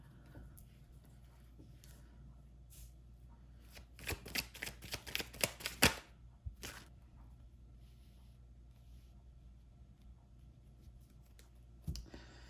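Tarot cards are riffled and shuffled in a quick burst of papery flutters and snaps, followed by a single card being drawn with a soft flick, all quiet and close.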